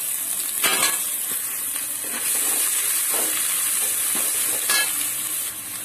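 Chopped big onions fry in hot coconut ghee for coconut rice, a close, steady sizzle and hiss with a few sharp scraping stirs, heard alone without talk.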